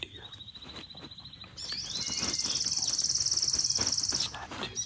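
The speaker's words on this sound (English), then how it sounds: "There's a lot of birds making noise and everything like that." Birds calling in pine woods on a muggy, foggy Wisconsin morning: a thin steady whistle, then a bright sustained chirping trill over soft woodland ambience, moderately close and quiet.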